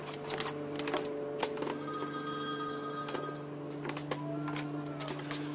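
A telephone rings repeatedly in short electronic bursts with steady background tones, no voices present.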